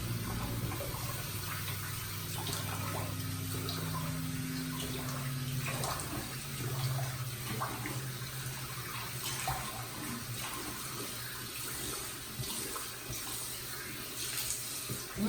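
A bathroom tap runs steadily and close by as shave soap is rinsed off, water splashing continuously into a sink with no talking.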